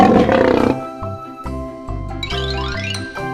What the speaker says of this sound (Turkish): aslan